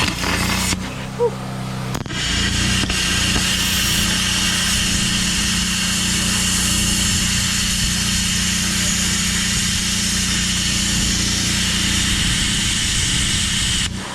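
A Sawzall reciprocating saw cutting metal under a 1987 Toyota 4Runner with a solid axle swap in a garage, a loud continuous buzzing drone after a brief start, running steadily throughout.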